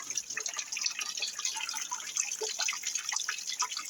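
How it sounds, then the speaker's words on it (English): Snow meltwater runoff drips and trickles continuously close by, a busy patter of small drops falling at an irregular rhythm with no voices. "I'm getting quite a bit of runoff right now"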